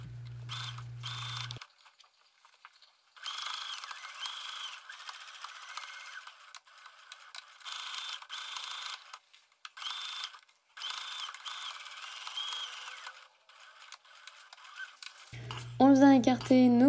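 A sewing machine stitching a seam on a jacket cuff, in short bursts of rapid mechanical whirring and clatter separated by pauses, with a low hum and a brief voice at the start and end.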